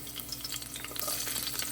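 Garlic and onion sauté in a hot pan with a soft, steady sizzle and crackle, faint and close, without any voices.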